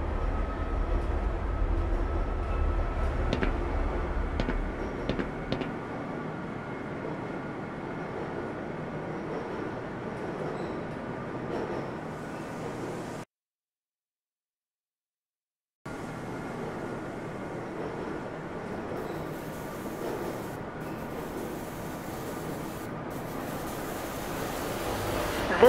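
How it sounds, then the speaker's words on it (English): Tram car moving through the Black Mesa research facility in the video game Black Mesa, a low continuous rolling rumble and faint rattles that drop out briefly to silence before resuming at a steady, moderate level. "Train is inbound from level 3 dormitories to Sector C test labs and control facilities."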